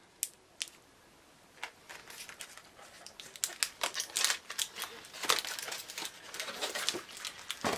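Packaged Colombian guava paste sweets are unwrapped, with crisp crinkling and crackling plastic that starts as sparse ticks and builds into dense, close rustling.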